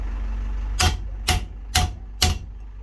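Four sharp metallic strikes drive a bearing race into the 9 1/4 rear axle of a 1992 Dodge D150, evenly spaced about half a second apart, close and loud over a steady low hum.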